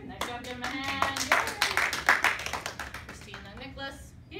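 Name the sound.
applause for students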